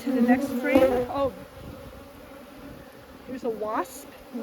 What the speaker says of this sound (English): here's a wasp. I'm trying to get rid of this guy.